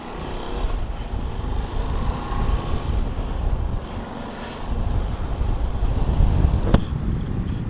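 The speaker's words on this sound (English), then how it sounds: "Sorry, it's pretty windy." Heavy wind buffets the microphone in constant low rumbling gusts beside a Ducati Desert X motorcycle, swelling louder toward the end, with a brief sharp tick near the close.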